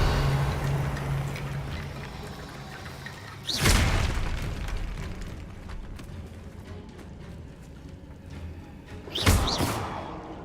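The Revelio spell is cast in Hogwarts Legacy, producing two separate sweeping whoosh-and-boom pulses that rise sharply and ring out, set against a low game ambience.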